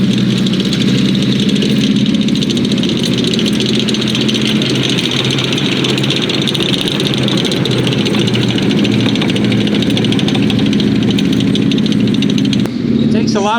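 M24 Chaffee tank powered by twin Cadillac flathead V8 engines, running with a loud, steady, deep rumble that stays constant throughout, close by, with a brief change near the end.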